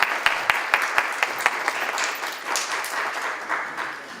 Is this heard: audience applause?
yes